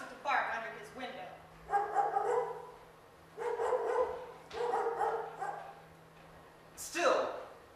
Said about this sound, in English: though dogs were set to bark under his window